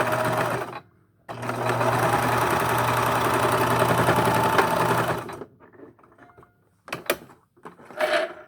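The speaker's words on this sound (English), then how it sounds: "Turn off my sewing machine." A home sewing machine stitches a fabric face mask with a steady, close mechanical whir lasting several seconds, then stops, followed by a few quieter clicks and handling sounds.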